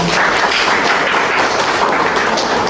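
Steady, dense applause from a classroom of high school students, continuous and fairly loud with no talking over it.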